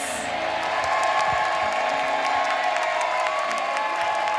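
Studio audience applause for the four panelists of a talent guessing show, a steady, loud wash of clapping with scattered cheers and whoops that carries on without letting up.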